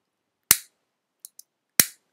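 Gunshot sound effect for an iMovie edit, two sharp, loud cracks about a second apart with short decaying tails, and two faint metallic clicks between them, in otherwise silence.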